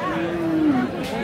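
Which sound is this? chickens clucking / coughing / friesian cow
friesian cow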